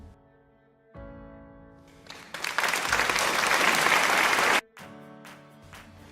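An applause sound effect: a burst of clapping swells up and cuts off after about two seconds, with quieter tonal sound before and after it.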